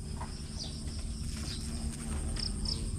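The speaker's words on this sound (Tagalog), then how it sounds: "Ayan may bubuyog. Nagpo-pollinate siya ng bulaklak." A bee buzzes while pollinating squash flowers on a farm, a low steady hum that runs continuously under outdoor ambience with faint chirping.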